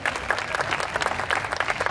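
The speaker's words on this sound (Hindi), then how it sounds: "इन दोनों के लिए जोरदार तालियां हो जाए।" A short burst of lively audience applause at an outdoor show in Vadodara's Kamati Baug, steady dense clapping close by.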